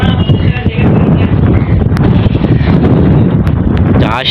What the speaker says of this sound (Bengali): আর অনেক বহুত হাওয়াও চলতেছে